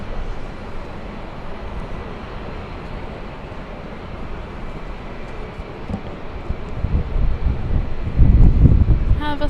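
Airliner at LAX building from a distant windy hum into a louder roar of engines toward the end, heard outdoors under gusting microphone wind.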